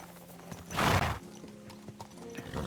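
A horse in the medieval role-playing game Kingdom Come: Deliverance 2 gives a loud, close whinny amid steady clip-clopping hooves, with faint game ambience continuing afterward.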